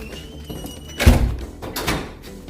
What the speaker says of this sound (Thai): เราก็สแกนไปตรงนี้นะคะ แล้วก็เปิดประตู